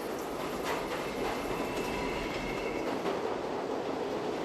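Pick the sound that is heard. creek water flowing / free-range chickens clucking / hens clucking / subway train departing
subway train departing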